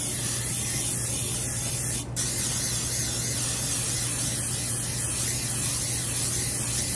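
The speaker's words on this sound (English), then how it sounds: "I'm gonna take my cast iron skillet and I'm gonna grease it really good." Cooking spray hissing steadily into a cast iron skillet, a loud continuous close spray with one very brief break, no talking.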